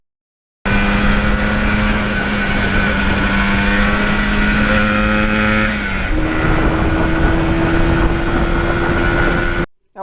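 A 1977 Yamaha RD400 two-stroke motorcycle engine runs close by with a steady, buzzy, loud drone, idling evenly then settling to a slightly different pitch partway through before cutting off.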